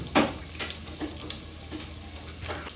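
Water is poured from a height into a cooking pot on a kitchen stove, a short splashing burst followed by softer trickling and light sizzle-like noise.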